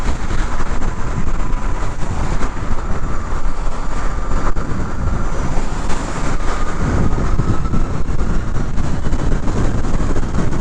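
A Harley-Davidson LiveWire electric motorcycle accelerates on a highway on-ramp, a loud, continuous rush of wind and road roar with a faint motor whine and no gear changes.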